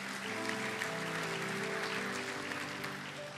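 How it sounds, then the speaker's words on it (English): Church congregation clapping during a sermon, a steady wash of applause filling the room with organ-like sustained tones beneath, continuous and moderately distant. "There's some of you clapping, hoping if I clap"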